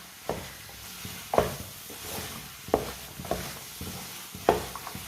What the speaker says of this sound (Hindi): अब इसे 2 मिनट के लिए ऐसे ही मिक्स करते हुए पका लेंगे।